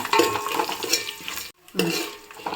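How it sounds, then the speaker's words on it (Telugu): Amaranth leaves stir-fried with garlic in a pan, close scraping stirs over a soft sizzle in uneven strokes, with a brief pause in the middle, no voices. "ఇప్పుడు ఇది ఫ్రై అయ్యాయి కదా, ఈ టైంలో మనం వెల్లుల్లి వేసుకుందాము."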